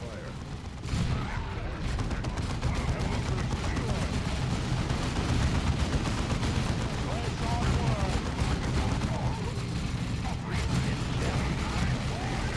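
Heavy bolters and a Devastator squad of Space Marines fire in Dawn of War 2, a dense, continuous roar of rapid gunfire and explosions running throughout, with in-game voices talking under the battle.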